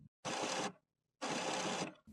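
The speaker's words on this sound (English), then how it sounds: "Listen for the paper pick rollers." Pick rollers in an HP printer rotate in two short mechanical whirring bursts, each about half a second long, separated by a quiet pause, with a third burst just starting at the end.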